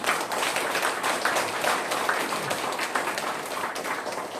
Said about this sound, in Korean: 우리 박수 한번 드립니다.